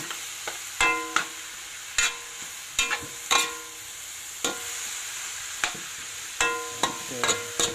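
A spoon scrapes and knocks against the pot while banana blossom and papaya simmer in coconut milk, giving irregular clacks over a soft bubbling sizzle, close and without talk.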